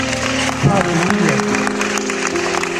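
A church congregation applauds in praise during a sermon, steady clapping filling the space alongside sustained music and a voice calling out over it.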